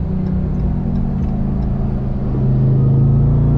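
A 702hp Dodge RAM TRX rolls along the Nürburgring Nordschleife, its engine a steady, loud low drone that swells slightly toward the end as road and wind noise fill the background.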